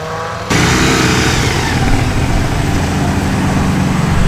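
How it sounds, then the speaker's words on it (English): Jaguar XK140 with a straight-six XK engine burbling at an evening classic car meet, a loud, rich, steady rumble that starts abruptly and carries on close by without pause. "Lovely burble of its straight 6 XK engine."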